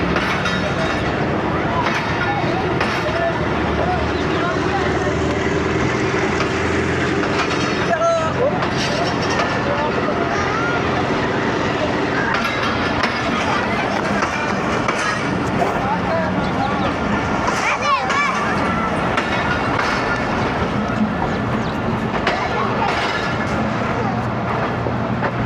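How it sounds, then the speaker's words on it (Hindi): Ravi Express passenger train leaving a railway station en route from Lahore to Nankana Sahib: a steady, loud rumble and rolling clatter of the train with crowd babble and occasional voices over it throughout. "बड़े गौर से देख रहे हैं ट्रेन को रवाना होते हुए।"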